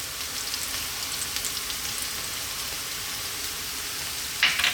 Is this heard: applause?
no